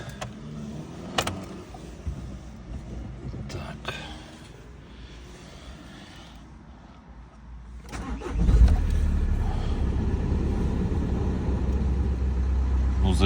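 A Volkswagen Tiguan's engine is started, with a few clicks and quiet handling noises first, then a cranking catch and a steady low idle that continues to the end.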